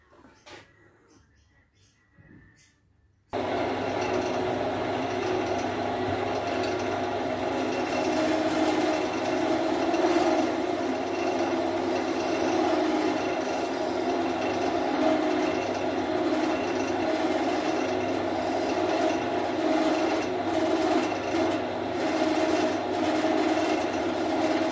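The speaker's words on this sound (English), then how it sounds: "next step is onto the lathe" A lathe machines a metal part for a fishing feeder, starting after a few quiet seconds and then running as a steady, loud mechanical drone with a continuous hum that carries through the rest of the clip.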